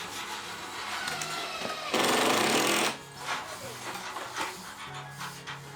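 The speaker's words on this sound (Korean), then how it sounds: "멀리서부터 뚝딱뚝딱 공사 소리가 한창인데요" Construction noise at a village house repair site in Wonju, with a burst of loud power-tool grinding or hammering in the middle and steady banging and rumble around it.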